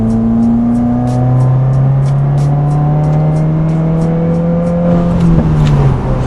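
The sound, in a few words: car accelerating from 3rd to 6th gear onto freeway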